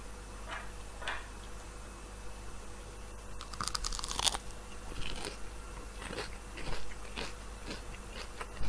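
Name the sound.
crunching and chewing a breaded chicken nugget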